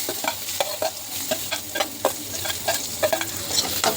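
Small onions hitting hot oil with turmeric and chili for a kingfish curry, sizzling and frying steadily with repeated sharp stirring scrapes throughout, close and fairly loud with no talk.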